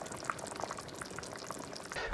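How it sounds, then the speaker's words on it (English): Chunky beef stew bubbles and simmers in a pot, a steady close crackle of small bursting bubbles with a faint watery hiss, heard alone. "Let's turn that heat down and simmer."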